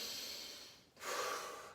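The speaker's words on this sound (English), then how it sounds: "Then take a deep breath." A long breath out, then a deep breath drawn in through the nose, close and airy with a short pause between them.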